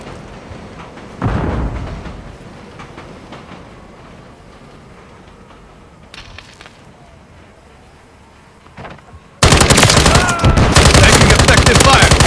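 Gunfire in Call of Duty: Modern Warfare, with a loud burst early on, scattered distant shots through a quieter stretch, then an intense sustained automatic barrage near the end; voices are faint in the background.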